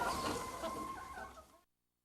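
Farm chickens cluck steadily in a close, busy chorus, with no voices over them, before the sound cuts off abruptly.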